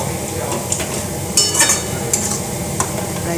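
Lote fish jhuro, a Bengali dry dish, stirred in a pan with steady scraping and soft sizzling, plus a few louder clinks of a utensil against the pan.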